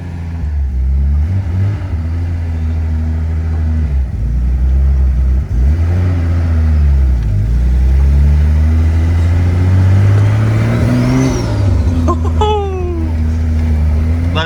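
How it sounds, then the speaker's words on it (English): A turbocharged Nissan 280ZX L28 engine idles unevenly, its revs rising and dropping in a hunting rhythm, with a whistling spool and brief voices toward the end. "Idle's kind of hunting at the moment."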